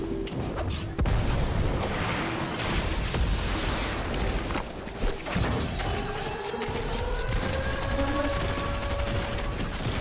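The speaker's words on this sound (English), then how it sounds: "all you need is a rocket and just fly in that" A rocket fired and ridden into a vault in Fortnite, dense crashing and blasting noise filling the whole stretch, with rising whistling tones toward the end, loud and continuous.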